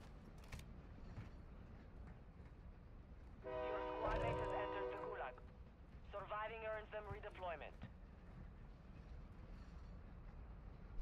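Train in the video game Warzone 2, a low rolling rumble broken by a loud sustained horn blast and then a shorter wavering whistle-like tone; no clear speech.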